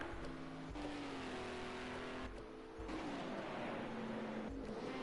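GT3 race cars, including an Aston Martin and a Lamborghini, scream around the Nürburgring in a racing video game, their engines rising and dropping through gear shifts in a steady, close, continuous drone.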